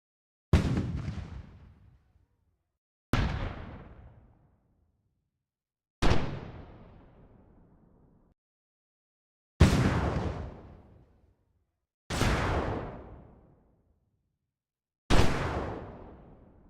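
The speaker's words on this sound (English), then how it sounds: "I found 3 different explosion sounds and created 3 different variations." Six layered explosion variations for a video game launcher weapon shot, each a sharp booming blast that decays over a second or two, spaced about three seconds apart with silence between, loud and alone.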